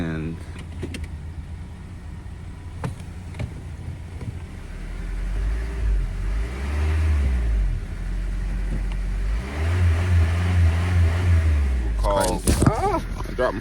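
A car stuck in limp mode, its engine rising and falling in two sustained revs, loud and close, with a person talking over it and a brief clatter near the end.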